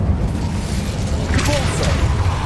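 The Incendio fire spell in Hogwarts Legacy: a low booming rumble with a fiery burst swelling midway, set against constant game ambience.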